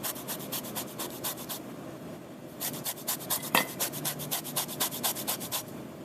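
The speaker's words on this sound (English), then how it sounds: "I'm going to grate this over a bowl to catch all my lemon zest" Lemon peel grated over a bowl for zest, a close, quiet series of quick rasping strokes in two bursts with a short pause between them.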